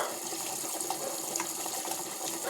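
Tap water runs in a steady, continuous stream, a bright hiss that stays even throughout with no voices.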